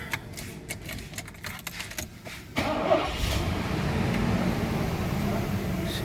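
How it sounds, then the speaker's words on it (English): A Mercedes-Benz 560 SEL W126 cranks close up with a couple of seconds of rapid ticking, then fires and settles into a steady, even idle. "So let me just give it a quick start."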